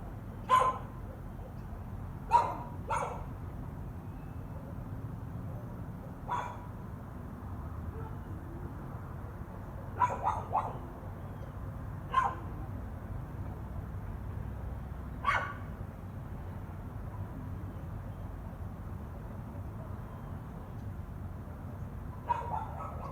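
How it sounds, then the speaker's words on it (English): Neighbours' dogs bark outdoors at 8:30 in the morning, sounding somewhat distant: single barks and short pairs come at irregular intervals over a low, steady background hum. "these assholes have these dogs out. Listen to this."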